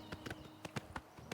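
A stolen horse's hooves clip-clop in Oblivion Remastered, a quick uneven series of about ten sharp, hollow hoofbeats in a trotting rhythm, fairly faint and heard alone.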